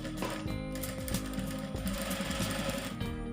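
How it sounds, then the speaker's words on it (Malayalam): A sewing machine stitches a shirt placket with a steady, fast mechanical clatter and hum throughout, close and moderately quiet, with no voices. "ഞാനിപ്പോൾ സ്റ്റിച്ച് ചെയ്ത് കൊണ്ടുവന്ന് നമ്മുടെ നീഡിൽ കുത്തി നിർത്തിയേക്കാണ്"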